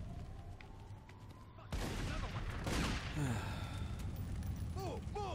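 Gunfire in a chaotic fight, a dense wash of rapid shots and booms that suddenly swells and rolls on loudly, with scattered voices and whooshing tones mixed in.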